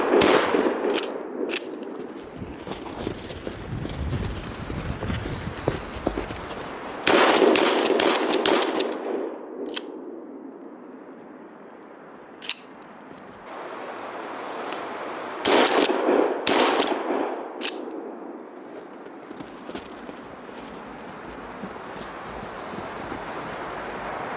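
Mossberg 590A1 12 gauge pump shotgun firing outdoors in strong wind: a quick string of loud blasts at the start, then separate heavy booms spaced across the clip, with gusty wind rumble filling the gaps.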